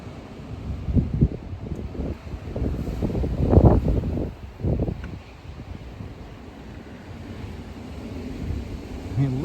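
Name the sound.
roaring hurricane-force blizzard wind gusts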